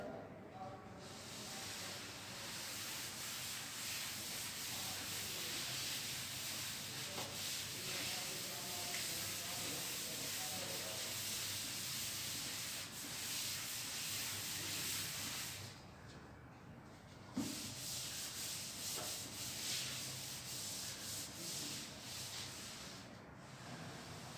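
A board is rubbed and erased in a classroom beam-analysis lecture, giving a steady, faint scrubbing hiss that runs throughout with slight pauses and no clear speech.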